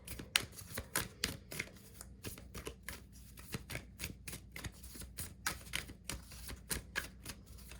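A deck of oracle cards riffled and shuffled by hand, a steady patter of crisp flicking snaps repeating close by with no voices.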